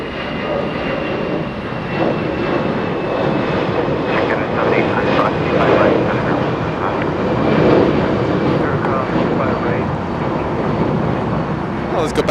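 An Alaska Airlines jet airliner departing Los Angeles International Airport for Portland roars steadily and loudly throughout, a broad continuous engine rumble with a slight swell in the middle and no pause.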